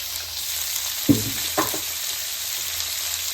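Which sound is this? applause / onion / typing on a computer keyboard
onion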